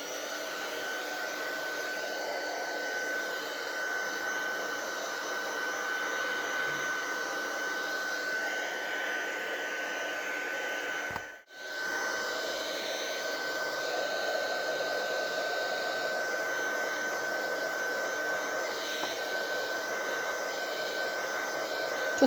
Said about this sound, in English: I'm going to try and dry the rest of it with the heat gun